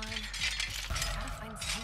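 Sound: ice cubes clinking in a glass of water

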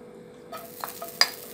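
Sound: minced ginger frying in hot oil

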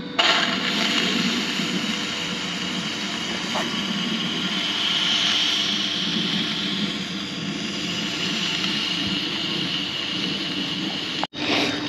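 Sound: Foster steam engine with the blower turned on

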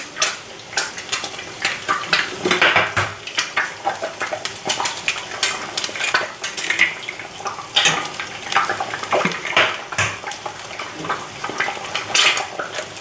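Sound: eggs frying in a pan

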